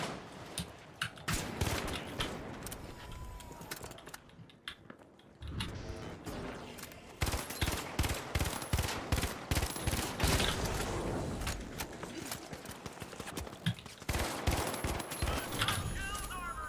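Repeated bursts of automatic gunfire from The Finals, rattling shots in rapid strings with short pauses between volleys, under a talking voice throughout.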